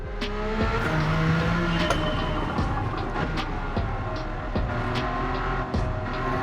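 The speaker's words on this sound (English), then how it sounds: "Let's see what this Jaguar can do." Jaguar XJ220 race car in Racing Modified trim, driven in Gran Turismo 7, roars steadily and loudly throughout, engine tone rising with acceleration amid tire squeal and occasional sharp clicks, with no talk.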